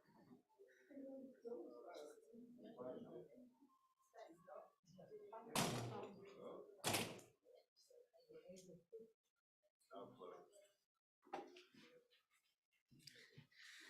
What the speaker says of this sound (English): Yes, I will close the door.